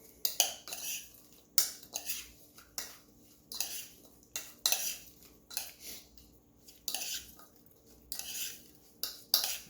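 Korean bibimbap being mixed in a bowl with cutlery: repeated scraping and clinking of metal against the bowl in irregular bursts, close and fairly loud, with no talking.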